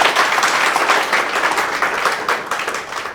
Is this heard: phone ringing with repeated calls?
no